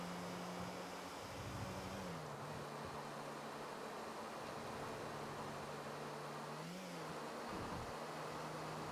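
Car engine in GTA IV on a rainy road, a steady mid-pitched drone that rises briefly around the middle and again near the end, with a wet noisy wash throughout and no talking.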